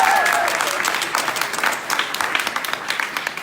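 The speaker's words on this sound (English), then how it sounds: "a big applause for him" An audience at an open source tech meetup claps for a speaker called on stage, dense applause that is fairly close and loud and tapers only slightly, with a brief voice at the start.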